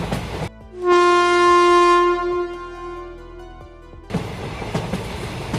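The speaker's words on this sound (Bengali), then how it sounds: "ততক্ষণে ট্রেন এসে গেছে কৃষ্ণপুর স্টেশনে" A loud, sustained train horn blares for about three seconds as a train arrives at a station, its steady harmonic tone standing out before giving way to rumbling station noise.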